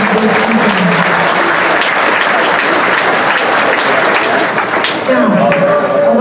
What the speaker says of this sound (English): Please, please, please give yourselves, all of you, a big round of applause